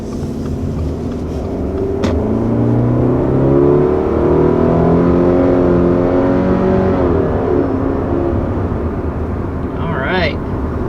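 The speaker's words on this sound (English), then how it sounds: "So what you're hearing is the new engine." The 2.5-liter boxer four-cylinder engine of a 2021 Subaru Crosstrek hums steadily from inside the car, swelling under acceleration then easing off, with a voice faintly audible beneath the engine noise.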